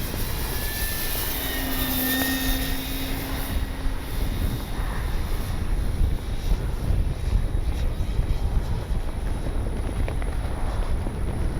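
An RC F4U Corsair warbird model plane makes a gear-down pass, its engine a steady broad drone with a faint rising and falling tone, heard at moderate distance under a continuous wash of outdoor noise.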